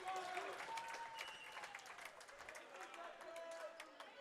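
A gym crowd at a boys' high school volleyball playoff match cheers and claps with steady, busy noise, squeaking shoes and scattered shouts, while a commentator talks over it.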